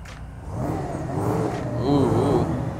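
A roadster sports car's engine revs nearby at a cars-and-coffee meet, a steady rising and falling engine drone with whirring tones, heard continuously under background crowd noise.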